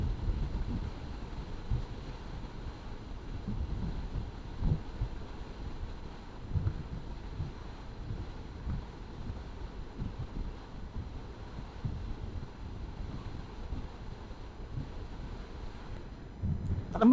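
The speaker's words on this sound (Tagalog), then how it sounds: "malakas nga talaga hangin sa kaliwa" Strong wind buffets a solo motorcyclist riding a loop around Mindoro, a constant low rumble and roar against the helmet microphone that runs unbroken with no talk.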